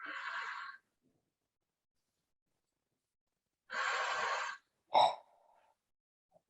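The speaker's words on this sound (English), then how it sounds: "Inhale, let it expand. Exhale and suck the belly in." Deep abdominal breathing in a yoga class, two long airy breaths separated by silence, followed by a short sharp sniff-like breath, close and alone without talk.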